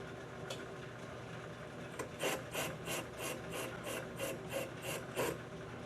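A metal lathe takes a cut on a workpiece with 3.5 inches hanging out of the chuck jaws. It gives a faint, rhythmic rasping scrape in repeated short bursts over a low background hum.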